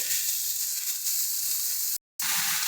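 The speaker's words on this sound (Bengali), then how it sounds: "এবার মধ্যে আমরা শাকটা দিয়ে দেব" Bet greens dropped into a pan of frying vegetables, a loud, bright, steady sizzle and crackle, broken by a short silent gap near the end before the frying resumes.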